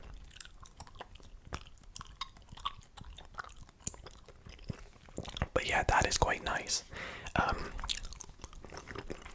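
Wrigley's chewing gum being chewed close up, with soft wet clicks and smacks that turn busier and louder partway through, mixed in with whispered talk.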